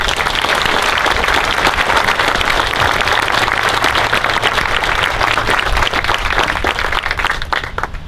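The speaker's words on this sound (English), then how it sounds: "Please give them all a round of applause." An outdoor audience at a U.S. Marine change-of-command ceremony at Camp Lejeune, North Carolina, gives loud, steady applause lasting about eight seconds, dense clapping that fades slightly at the end.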